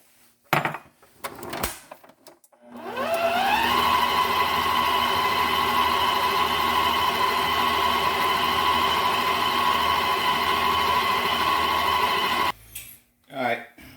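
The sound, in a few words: stand mixer on second speed mixing pound cake batter with eggs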